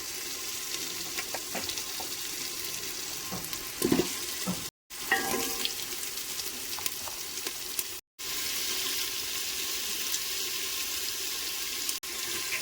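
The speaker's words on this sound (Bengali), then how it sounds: "এবার কেটে রাখা সবজিগুলো ভেজে নিচ্ছি" Chopped vegetables for khichuri and cauliflower curry fry in a pan with ginger paste, green chilli and five-spice, giving a soft steady sizzle with occasional stirring scrapes and brief cuts in between.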